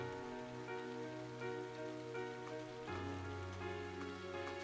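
Steady rain patters through the Trails of Cold Steel video game, a constant hiss of drops on surfaces mixed under a soft sustained musical drone that changes chord partway through. No one speaks.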